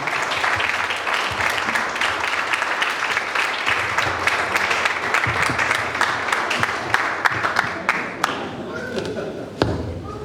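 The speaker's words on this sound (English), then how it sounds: "Another thunderous round of applause for Anand Dombivli to make this event happen" Loud, dense applause from an audience at a Toastmasters club's 100th meeting, steady clapping filling the room with a few sharp thuds, tapering near the end.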